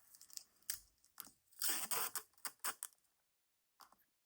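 Tape being pulled and torn off a roll at a desk while decluttering planner supplies, a quick series of sharp close rips and crinkles over a few seconds, then a brief final tear.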